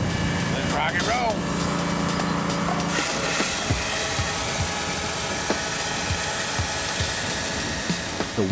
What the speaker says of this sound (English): The walls are over 1 meter thick, and so tough that only diamond-tipped chainsaws will cut through them.